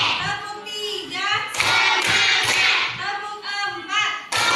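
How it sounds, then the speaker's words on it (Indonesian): A classroom of children claps along in a counted rhythm led by a teacher, with bursts of loud group clapping mixed with shouted voices and talk throughout. "Tepuk 1, tepuk 2, tepuk 3,"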